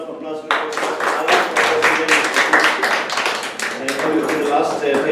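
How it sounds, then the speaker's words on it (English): Applause from an audience at a club meeting, a dense, steady patter of many hands clapping that starts abruptly and keeps going for several seconds at close range. "Once again, give a big round of applause for"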